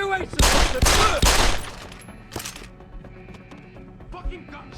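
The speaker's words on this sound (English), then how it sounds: "Fucking gunshots!" Bursts of video game gunfire, several loud cracking volleys in the first second and a half, then a fainter shot, followed by quieter game sounds and low background noise.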